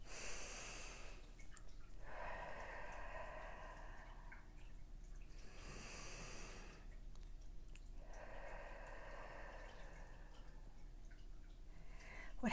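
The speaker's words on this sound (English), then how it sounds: "let's take a couple deep breaths and fill those lungs as deeply as you can" Slow, deep breaths during a guided breathing exercise, each long inhale and exhale audible up close and soft, repeating in an unhurried rhythm roughly every few seconds against a quiet background.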